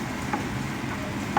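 Chicken liver fries in vegetable oil with onion in a pan, giving a steady, soft sizzle with a couple of faint pops and no talking.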